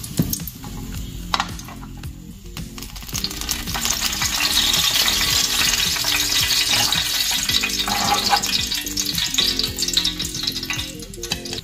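Steady loud sizzling of fish frying in hot cooking oil, with a few clinks of a utensil against the pan.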